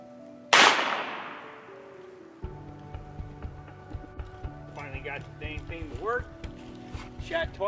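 A single sharp .22 rifle shot rings out outdoors near a trapped raccoon, with a quick decaying echo, followed by a steady patter of small impacts and people talking.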